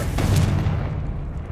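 A Confringo spell explodes in Hogwarts Legacy, a single deep blast near the start that rolls off into a fading rumble.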